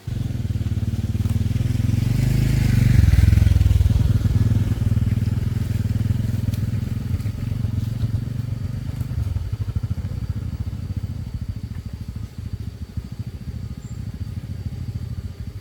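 A motorbike engine rumbles steadily and close as it rides along a track toward a hut, swelling briefly and then easing into a lower, rougher idle.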